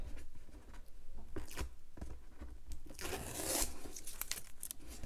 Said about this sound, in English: take this tape off